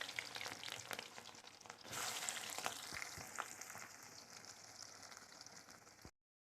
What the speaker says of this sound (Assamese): এতিয়া মই ইয়াতে কুটি থোৱা পিঁয়াজখিনি দি দিওঁ